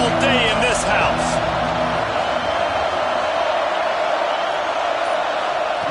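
A packed college football stadium crowd for Oklahoma versus Notre Dame roars steadily as a dense, loud wash of noise, with a broadcast commentator talking over it.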